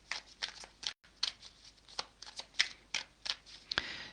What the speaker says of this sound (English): Can we get a couple more cards, Spirit?